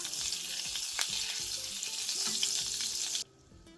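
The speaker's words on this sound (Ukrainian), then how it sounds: "Котлети смажимо на середньому вогні з двох сторін до золотавої скоринки." Steady, loud sizzling of chicken patties frying in butter and oil over medium heat, with crackles and occasional clinks before the sound cuts off abruptly near the end.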